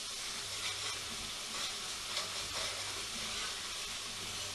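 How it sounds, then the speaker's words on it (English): Onions caramelising in a hot pan for a chicken pathia, giving a steady, dense sizzle and crackle of frying that runs unbroken throughout, with no talking. "Don't have to stir them like mad because you want them to caramelise and let the onions get sweet"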